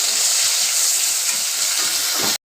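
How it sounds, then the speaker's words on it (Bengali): Okra sizzles hard in hot oil seasoned with salt and turmeric, a loud, dense, steady crackle that holds evenly, then stops abruptly just before the end. "ঢেঁড়সটা ভেজে নেব।"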